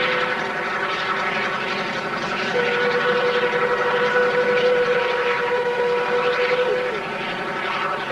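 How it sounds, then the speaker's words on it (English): Rotary snow plow train clearing deep snow along the line, a heavy rumbling machine drone with a sustained whine partway through, continuous and fairly close. "Management calls for its ultimate snow fighting machine, rotary plows that can dig through almost any accumulation of snow."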